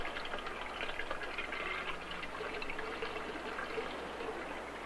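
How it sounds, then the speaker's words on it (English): Cold water pours steadily into one side of a divided tank in a classroom-style demonstration, a continuous close trickling fill with no talk over it. "But if we fill one side with cold water"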